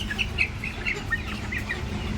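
Young chicks around two and a half months old peep and cluck continuously on a poultry farm, many soft high calls overlapping over a steady low background hum.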